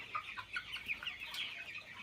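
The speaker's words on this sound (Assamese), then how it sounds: "আৰু দেখিছে এই ডাঙৰ ডাঙৰ মুৰ্গীকেইটা যে, ইহঁতক ৰখীয়া।" Large chickens cluck repeatedly in a quick, uneven run of short calls, fairly close and clear, with no voices over them.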